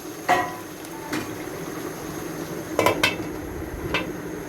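Lid set down on a pot of mutton cooking in oil, giving a few separate metallic clanks and clatters close by against a low steady background.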